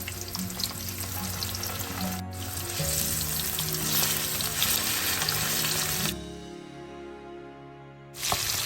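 Loud, steady sizzling of sardines frying in hot oil, crackling continuously, then dropping briefly before flaring up again at the end.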